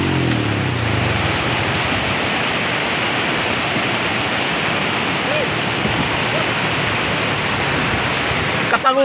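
Flooded Ciparang river rushing in a dense, loud, continuous roar of water, with faint voices partly buried in the torrent.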